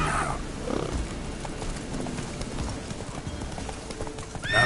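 Horse hooves clip-clop at a steady gallop in The Witcher 3, the rhythmic thuds continuous and close, with a brief whinny-like sound near the start.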